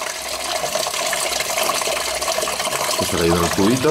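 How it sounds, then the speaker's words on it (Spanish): Coolant pours and splashes steadily from a Volkswagen Passat 1.9 TDI into a bucket during a thermostat and G12 coolant change, a close, continuous watery gush with some clunking near the end. "¿Veis? Ahí está saliendo ya todo el agua."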